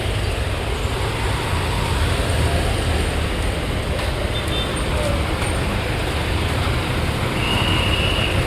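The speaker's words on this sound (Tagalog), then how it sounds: "Grabe ang traffic dito." Heavy road traffic on a busy street near the Pasig River esplanade makes a constant loud wash of engines and tyre noise, with a voice talking faintly underneath.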